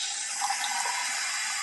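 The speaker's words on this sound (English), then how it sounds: "we're going to fill this little tub right here halfway with water" Tap water runs steadily into a small tub, a close, constant rushing splash that holds even throughout with no talking.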